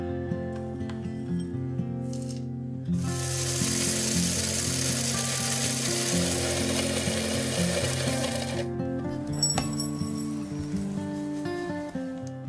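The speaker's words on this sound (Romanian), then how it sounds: "vom lua râșnița care este curățată înăuntru și vom face mai multe ture făină de linte" Electric grinder grinding lentils into flour, a loud high whirring burst in the middle following a lower motor drone, with clattering at the start and end and no talk.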